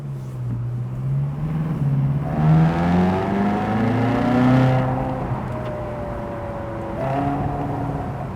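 A 2010 Ferrari California engine drops a gear by manual downshift, its rising and falling revs sweeping loud and close through the cabin with no talking over it.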